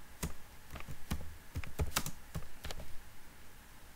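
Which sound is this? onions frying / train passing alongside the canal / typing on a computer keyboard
typing on a computer keyboard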